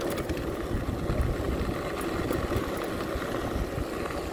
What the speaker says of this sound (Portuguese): estou no teste com a moto aí